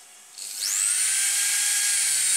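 A 7.7 mm drill bores out the injector holes in a Mercedes CDI 2.7 cylinder head. After a brief lead-in it spins up into a loud, steady, high-pitched whine that holds close and unbroken, with no talk.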